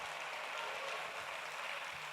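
A church congregation at a Baptist communion service applauding, a steady wash of many hands clapping heard faint and distant across the room.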